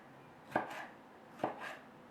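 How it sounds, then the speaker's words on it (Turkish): Two distinct knife chops through tomatoes into large slices onto a cutting board, about a second apart, close and moderately loud with a quiet room in between. "Şöyle büyük dilimler halinde doğrayacağım."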